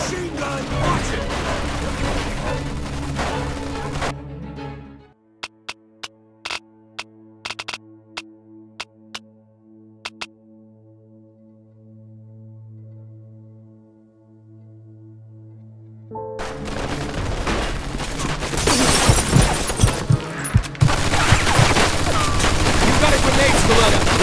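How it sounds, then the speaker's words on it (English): Gunfire in the video game Mafia II, loud chaotic shooting and noise at the start and end, with sparse sharp single shots over a quiet musical drone in the middle. "Looks like we found a machine gun."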